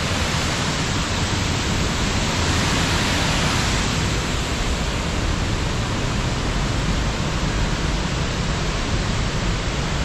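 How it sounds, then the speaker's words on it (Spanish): Water rushes down at La Malva reservoir in Somiedo, Asturias, making a loud, dense, unbroken roar that stays steady throughout with no voices. "Mira cómo baja el agua ahí"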